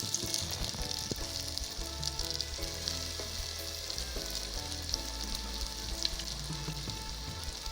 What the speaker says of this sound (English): I have my pot of oil already on fire. Then we'll start frying out.